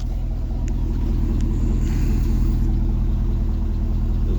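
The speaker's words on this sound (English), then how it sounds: "These definitely have a unique rumble to them." Truck engine idles close by with a deep, steady exhaust rumble, even and continuous throughout with no voices.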